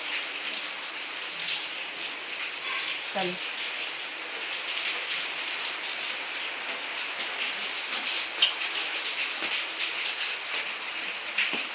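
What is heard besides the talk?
heavy rain falling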